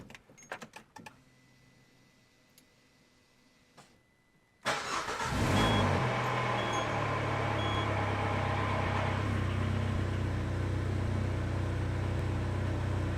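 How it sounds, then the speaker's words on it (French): Peugeot 206 RC engine starting after an oil change: quiet clicks and key jingle, then the starter cranks and the engine catches with a loud roar before settling into a steady close idle, no talking. "Donc premier redémarrage après la vidange."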